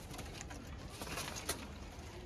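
A pigeon coos softly a few times against a constant noisy background hum, faint and somewhat distant, with no talking.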